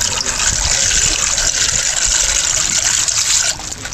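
Water poured out in a steady, continuous gush, loud and close, with a brief drop in level near the end and no talk over it.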